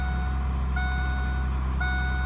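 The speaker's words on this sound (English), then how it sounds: "Dinging, of course, stops once you shut the door" A repeating electronic door-open warning chime dings steadily over a low idling hum from a 1991 Ford Thunderbird SC, the tones pausing briefly and then resuming.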